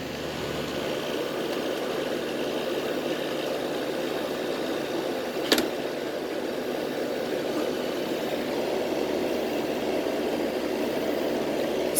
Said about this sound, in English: You can hear that compressor.